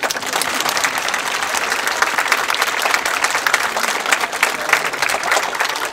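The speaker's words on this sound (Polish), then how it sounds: "także też wielkie brawa" Warm, full audience applause fills an indoor hall at a Midsummer Night event, a dense, steady wash of many hands clapping close and loud for six seconds without speech.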